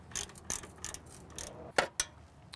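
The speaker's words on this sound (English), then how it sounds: "So now I got all the bolts down tight." Bolts tightened on a steel strut top jig for a Toyota 4Runner suspension, with a quick series of close ratcheting clicks and metallic taps in irregular bursts.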